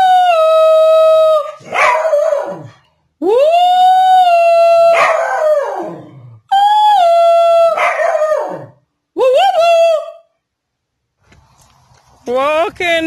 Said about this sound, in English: I just tried to make Winnie sing